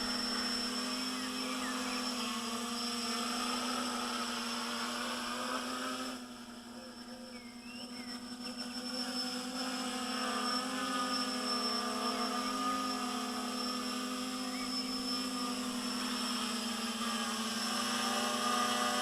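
A GAUI X500 drone hovers steadily in GPS mode, its motors producing a constant tonal whine and buzz that dips briefly in loudness midway before holding steady again, moderately distant.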